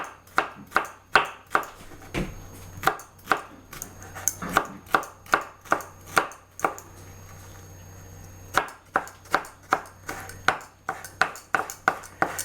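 A knife chops rapidly through red pepper and other ingredients on a cutting board while crab cakes are prepared: crisp, close, evenly spaced strokes in quick bursts separated by brief pauses, with no talking.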